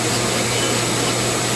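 A Dremel rotary tool carves a wooden staff, giving a steady, loud, high-pitched grinding whine with no breaks and no talk.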